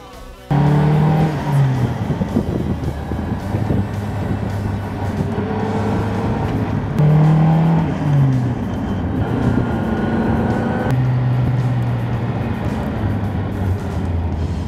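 A classic car's engine revs repeatedly while driving, the loud engine note climbing and falling in several distinct surges, including one early and one around the middle, over a steady drone.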